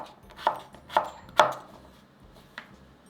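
A knife slices a halved cucumber into thick pieces, with three crisp cuts coming in quick succession and a fourth after a short pause. Each cut is sharp and close, with quiet kitchen background between them.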